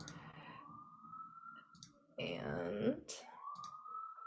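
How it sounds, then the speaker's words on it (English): An ambulance siren wails from outside with rising and falling tones, moderately loud and partly masked by someone talking over it. "there's like a loud ambulance where I'm at."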